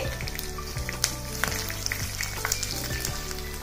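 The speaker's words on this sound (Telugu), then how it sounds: "ఈ తాలింపుని మీడియం ఫ్లేమ్ మీద దోరగా వేగనివ్వండి." A tempering of crushed cumin, slit green chillies and curry leaves fries in hot oil over a medium flame for tomato dal, crackling and sizzling steadily with sharp pops.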